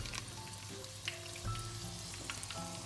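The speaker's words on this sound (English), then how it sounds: "So I'm gonna start frying the pakore." A steady sizzle of onion and spinach pakora batter frying in hot oil, close up, with faint crackles and pops throughout.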